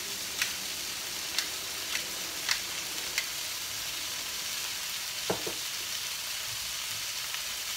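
Seasoned scrambled eggs sizzle softly in a pan, a steady faint hiss broken by scattered sharp ticks and taps of a utensil against the pan, with no one speaking.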